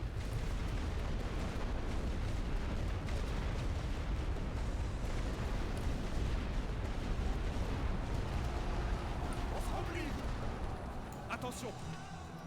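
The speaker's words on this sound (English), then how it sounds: "Load for suppressing barrage." Artillery suppressing barrage in the World War I strategy game The Great War: Western Front: a dense, continuous wall of rumbling booms and blasts, loud and unbroken, with faint higher crackles near the end.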